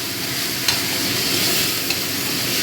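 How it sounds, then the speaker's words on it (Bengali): Lote fish mixture fries in a pan over a medium gas flame, giving a steady, close sizzle with a couple of faint clicks from stirring and no voices. "এবার একটু ভেজে নেব"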